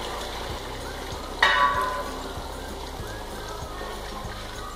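Boiling water pours into a hot frying pan holding pepper, carrot and chicken, with a sudden loud sizzle that quickly settles into a steady, softer bubbling hiss.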